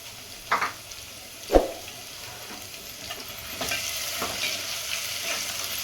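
Onion masala sautéing in a pan for egg biryani: a steady soft sizzle builds from the middle onward, broken by a couple of sharp clanks of a spoon stirring against the pan.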